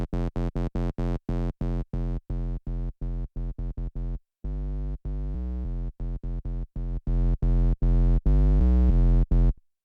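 An 808 bass synth patch in Serum 2, run through soft-clip distortion and a filter, plays a series of short and sustained tonal bass notes in a rhythmic pattern, loud and alone with no talk.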